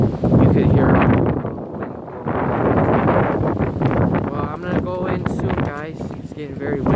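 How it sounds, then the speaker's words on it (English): Strong, heavy wind roars outdoors on a sunny day after the snow has melted, loud buffeting gusts hitting the microphone while a person talks. "It's very heavy wind out here."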